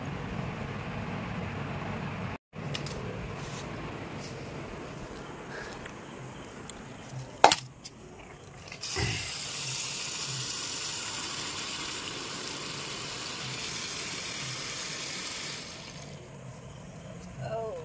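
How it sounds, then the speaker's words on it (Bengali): Durga chatu straw mushrooms are rinsed in water, first with scattered clicks and splashes, then a steady rushing wash of water in the second half, fairly close. "এটাকে আবার জল দিয়ে ধুয়ে নিয়ে ভালো করে পরিষ্কার করে নেব।"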